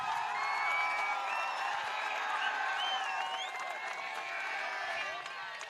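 A crowd at the Battle of the Hindus match applauds and cheers for the college Colombo team, with whoops and shouts over scattered clapping, while a voice talks over the noise.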